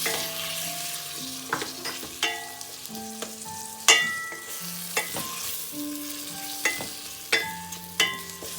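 Chopped tomatoes sizzle and fry with onions in a pan, with repeated stirring clinks and scrapes of a utensil against the pan, close and steady.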